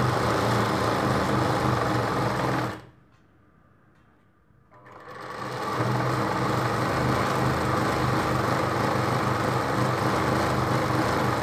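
Sewing machine stitching magji trim on a Rajputi dress, a loud continuous whirring run that stops abruptly for about two seconds, then ramps back up and keeps going steadily.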